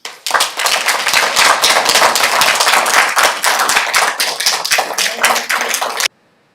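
A council meeting audience applauds with dense, steady hand clapping that runs for about six seconds and then stops abruptly.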